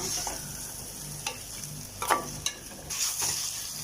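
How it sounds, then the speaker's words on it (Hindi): Chicken pieces sizzle and fry in a pan for a hara masala dish, a steady hiss with a few scrapes and clinks of stirring; no one speaks. "चिकन को हमने तब तक भूनना है जब तक इसका अच्छी तरह कलर चेंज ना हो।"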